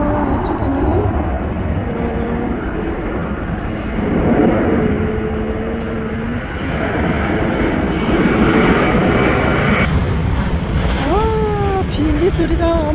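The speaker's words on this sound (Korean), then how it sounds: "비행기 소리가 어마어마하게 커서 잠시 중단했었습니다" A loud airplane roars overhead above a flower farm nursery, a steady broad rumble that swells and lingers, drowning out the surroundings.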